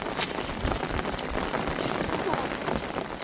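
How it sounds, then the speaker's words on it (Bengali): Monsoon rain patters steadily and densely on surfaces nearby, a continuous wash of drops at moderate level with faint voices underneath. "সকাল থেকে দফায় দফায় বৃষ্টি হচ্ছে, তবে এই 1 ঘন্টার বৃষ্টিতে খাল পুরো ভর্তি হয়ে গেছে।"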